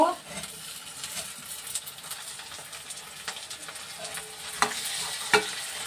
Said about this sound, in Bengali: তোমরা দেখো এটা একটু নাড়তে হবে